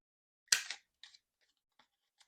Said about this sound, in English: And then we need to cut the corners on this.